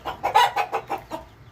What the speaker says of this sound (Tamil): ஒரு மொட்டைக்கோழி.